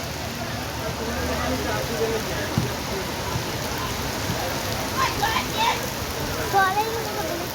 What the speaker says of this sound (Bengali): প্রচণ্ড বৃষ্টি হচ্ছে এই মুহূর্তে।